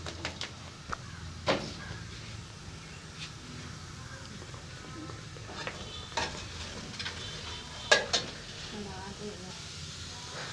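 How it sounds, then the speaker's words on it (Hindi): Onions cook in ghee in a pot on a stove for plain pulao, a low steady sizzle broken by scattered stirring scrapes and clinks, with a person talking over it. "इसमें हम डालेंगे प्याज।"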